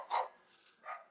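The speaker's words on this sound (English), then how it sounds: "And ignore the dogs." Dogs give two short, sharp barks a moment apart, moderately close against otherwise quiet surroundings.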